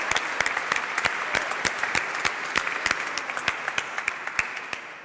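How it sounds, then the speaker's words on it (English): A crowd at a grassroots housing community assembly applauds steadily, a dense wash of many hands with sharper individual claps standing out, holding at an even level for about five seconds before easing slightly. "let's give them a big round of applause"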